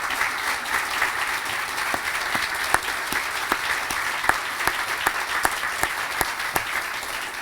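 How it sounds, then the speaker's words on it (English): An audience at the opening of a new public library in Middletown, New Castle County, claps steadily and warmly, a sustained round of applause from a seated crowd with individual claps standing out throughout. "so we can give you a round of applause"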